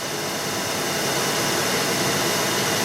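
A Kearney and Trecker milling machine spins at around 1200 RPM, giving a loud, steady, broadband whir that stays even for a few seconds.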